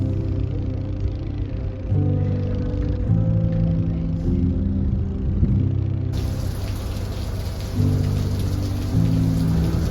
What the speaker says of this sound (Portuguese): Que bom que tá chovendo, o rio agradece.